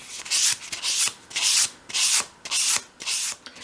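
Sandpaper rubs a bevel onto the edges of a small wooden moulding for a 1/12th scale dolls house wardrobe, in six steady, close, fairly loud strokes with short pauses between them.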